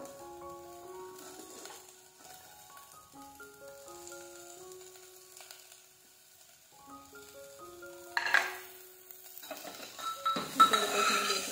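French beans, carrot, tomato and capsicum drop into a hot pan for a vegetable soup and set off a sudden hissing sizzle that swells late in the clip, after a stretch of soft melodic music.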